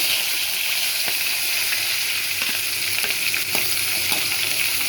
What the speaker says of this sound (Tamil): எண்ணெய் காஞ்சிடுச்சு, கடுகு போட்டுக்கலாம். கொஞ்சம் சீரகம் போட்டுக்கலாம்.